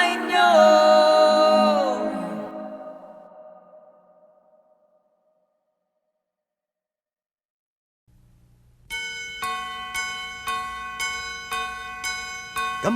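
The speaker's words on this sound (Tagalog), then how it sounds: "Kampana ng simbahan ay nanggigising na" Church bells ring in a Filipino Christmas song, a rhythmic series of bright metallic strikes about every half second after a fading sung phrase and a silent gap, loud and close.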